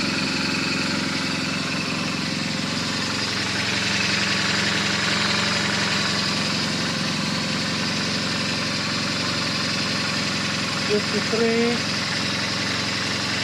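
A BMW R1200GS motorcycle engine idles steadily at 100,000 km service, a constant close mechanical hum and clatter throughout, with someone talking over it.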